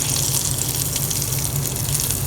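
A thick mixture poured into a mutton liver pepper roast, giving a steady, close, continuous liquid gush and splash throughout, alone without any talk.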